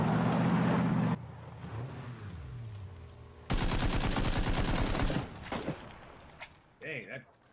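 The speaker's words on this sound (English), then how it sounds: "Did I hear another one? Like a motorcycle?" A motorcycle engine in a video game roars in loudly for about two seconds mid-clip, a buzzing revving drone set among sharp gunfire-like bursts and other game noise.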